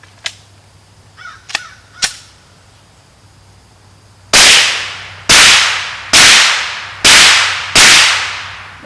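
Five sharp, loud suppressed gunshots from a Glock 17 with an AAC Illusion9 silencer firing subsonic rounds, evenly spaced about a second apart, each a dry crack with a short decaying tail, after a few fainter clicks.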